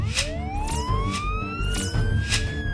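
An ambulance siren wails loudly and continuously, its rising sweeps repeating over steady street rumble, with no voices heard.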